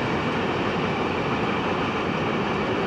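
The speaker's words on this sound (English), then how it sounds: "Get a look at Blinky taking this train up the line." Loud, continuous rumbling roar of a train rolling past close by, a dense, steady wash of noise with no breaks.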